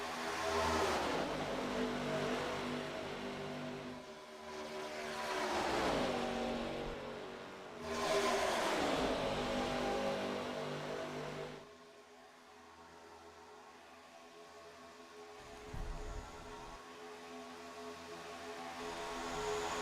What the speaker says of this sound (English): Cars moving up and down the track.